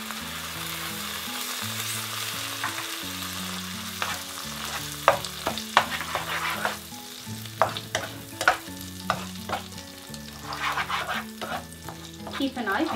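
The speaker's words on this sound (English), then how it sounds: "While butter starts to melt, I'm going to add green chilies and the ginger garlic paste." Green chilies and ginger garlic paste frying in melted butter for kadai paneer: a continuous crackling sizzle with repeated scraping stirs and spatula knocks, close by, over a low background of music, no talking.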